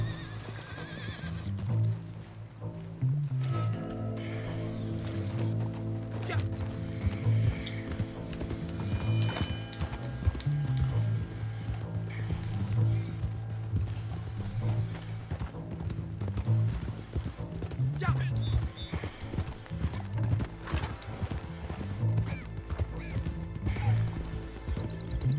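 Horse hooves gallop steadily in the Red Dead Online video game, a rhythmic clip-clop running throughout with occasional neighs, layered over game music and ambient noise.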